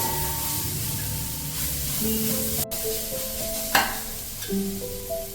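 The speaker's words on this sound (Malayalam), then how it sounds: "ക്യാപ്സിക്കം, ക്യാബേജ്, ഗ്രീൻ പീസ് എന്നിവ ചേർത്ത് ഒരു 3 മിനിറ്റ് ഫുൾ ഫ്ലെയിമിൽ നമുക്കൊന്ന് സോട്ട് ചെയ്ത് കൊടുക്കാം." Capsicum, cabbage and green peas sautéing on a tawa over full flame, a continuous close sizzle with stirring scrapes, a brief dropout and a sharper clatter near the end.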